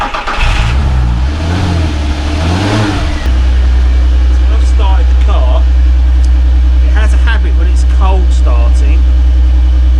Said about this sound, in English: Starting, rev count doesn't kick in straight away, so it'll start and run for 2 or 3 seconds with no revs